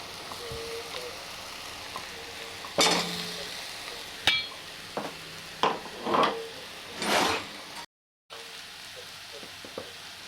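A steady sizzle of paste frying in a pan, with several louder scraping stirs breaking through the crackle and no voices.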